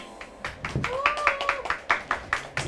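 An audience at a magic show on a variety program claps in a handful of sharp, separate claps spaced through the moment, with voices speaking over them.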